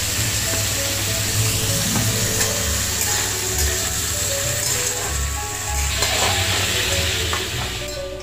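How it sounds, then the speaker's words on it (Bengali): Salted shrimp dusted with a little turmeric fries lightly in hot oil, giving a loud, steady, close sizzle that crackles continuously with no talking. "এই চিংড়ি মাছটা প্রথমে একটু ভেজে নেব।"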